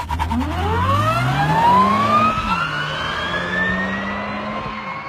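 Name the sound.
sports car with Duyunova motor, turbine-like sound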